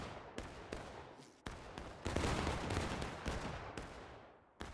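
Musket volley fire in the Civil War video game War of Rights: a ragged series of sharp gunshots crack out irregularly from near and farther off, with a dense rolling burst of overlapping shots in the middle.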